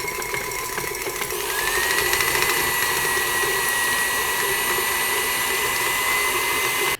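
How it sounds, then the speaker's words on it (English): An electric hand mixer whirs steadily while beating eight ounces of cream cheese for frosting, a constant close motor drone that rises slightly in pitch as it gets going, with no talking. "I have 8 ounces of cream cheese, and I'm going to beat this first before adding the rest of the stuff."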